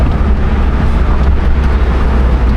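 A loud project car drives past close by, its engine and exhaust roaring in a steady, continuous blast for the whole stretch with no voices.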